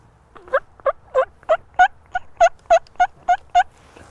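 A turkey call imitates a sleepy hen's tree yelp: about a dozen soft, evenly spaced yelping notes in a steady series, close and alone.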